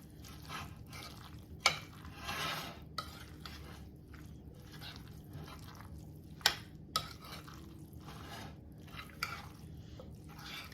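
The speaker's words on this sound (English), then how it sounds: "And you just fold until it's really blended." A spoon folding beaten eggs into ham salad in a bowl, soft faint stirring and squelching with occasional light taps against the dish.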